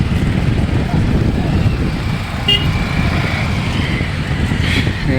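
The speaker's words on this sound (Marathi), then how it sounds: "ही एक गारी आलेली आहे" A vehicle idles and rumbles at a small jungle jetty where a ferry boat takes on bikes and cars in the rainy season, a steady low engine drone close by with a brief horn toot and faint background voices.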